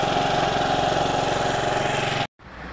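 A Typhoon scooter engine idles steadily with an even, buzzy mid-pitched drone, close and continuous for about two seconds before cutting off abruptly, followed by faint background noise.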